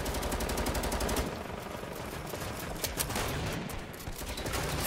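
Gunfire in the video game Fortnite during a beach assault: rapid automatic bursts crackle densely at first, then scattered shots and fire continue with no speech.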